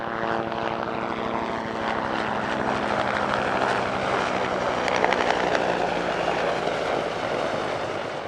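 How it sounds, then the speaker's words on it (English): Two helicopters fly past in a search and rescue display at the Leszno airshow, their rotors and engines giving a loud, continuous, throbbing drone that holds steady and swells slightly midway, with no talking. "That pair of helicopters we've just seen, both operated by HeliCheck."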